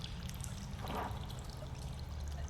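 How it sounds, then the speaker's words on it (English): Rushing water like a broken dam, a continuous hissing stream with a brief louder pouring surge in the middle, steady and fairly distant, with no voices. "you begin to hear the sound of rushing water"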